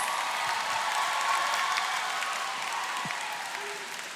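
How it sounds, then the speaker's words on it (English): Arena crowd at an MPL Philippines esports playoff applauding RSG Philippines: a loud, continuous roar of clapping and cheering that fills the space and eases off slightly near the end. "Everybody, join me in giving a big round of applause to RSG"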